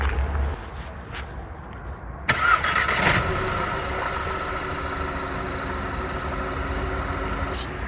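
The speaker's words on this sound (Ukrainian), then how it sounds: "послухаємо, як запускається двигун" A Skoda Octavia A5 1.8 TSI petrol engine turns over and starts with a brief rising burst, then drops into a steady, low idle that continues to the end.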